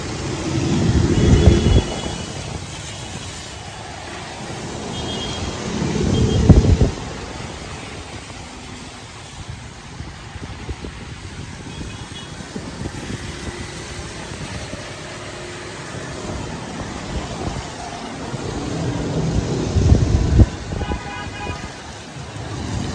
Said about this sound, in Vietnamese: gió này rầm rầm rầm như tháng 10 từ tháng 11 luôn